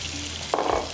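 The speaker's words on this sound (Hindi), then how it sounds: "इसको फ्राई करते हैं" Cumin and ginger tarka hits hot oil for a capsicum butter fish dish. A sudden hissing sizzle bursts in midway and keeps crackling steadily after a quiet start.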